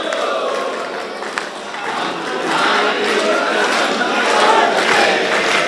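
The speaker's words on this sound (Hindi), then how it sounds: "तालियां कमजोर हो गई" Audience applause and crowd noise at a Hindi comic poetry recital (kavi sammelan), a steady, fairly loud wash of clapping and murmur that swells slightly toward the end.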